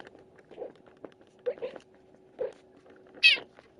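A voice imitates a cat with a short, bright, rising meow near the end, following a few soft low murmurs and quiet thumps, while building a Minecraft remake of a horror game.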